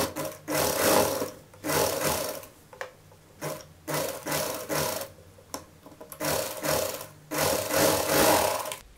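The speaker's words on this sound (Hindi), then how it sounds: "उसके बाद आप इसको ऐसे पलटिए और ऐसे सिलाई लगा लीजिए।" Sewing machine stitching a sleeve onto a child's top, running in repeated bursts of several seconds with short pauses between, close and steady, no voices.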